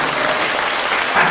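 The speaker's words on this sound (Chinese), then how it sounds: "我们以热烈的掌声谢谢他们" An audience at a Buddhist lecture breaks into dense, steady applause, loud and close, lasting the whole moment with no pauses.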